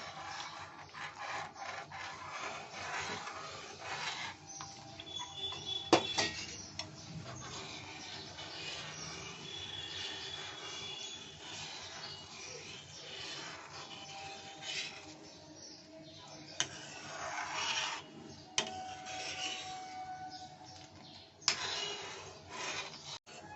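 Cornflour slurry being stirred slowly into a dessert in a pan, giving a steady soft scraping and rubbing of spoon against the pan, with a few sharper knocks along the way and no talking.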